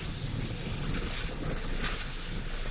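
Water sprays hard inside a car wash, a dense, steady hiss and rush of spray with faint rumbling underneath, continuous and close for the whole stretch.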